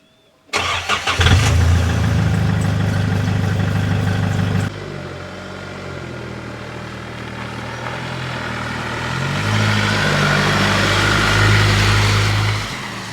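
A car engine cranks and catches, revs loudly, then drops to a steady idle that rises again as it warms up.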